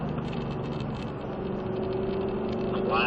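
A Ford Mustang engine in a racing video game, a steady, sustained drone under throttle that rises slightly in pitch toward the end, loud and close.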